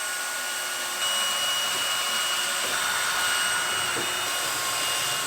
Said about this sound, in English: it's got to drill a couple holes here